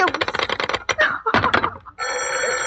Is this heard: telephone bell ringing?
yes